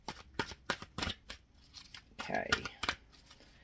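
Oracle cards are shuffled before a tarot reading, making a run of quick, crisp riffling snaps in a steady rhythm close by, followed by a rougher rustle. A voice briefly speaks over it.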